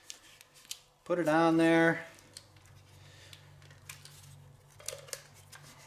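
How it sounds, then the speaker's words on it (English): A section of duct tape tears off the roll in one sharp, loud rip lasting under a second, followed by quiet handling noises and soft clicks, with someone speaking briefly. "Just take a little section of tape,"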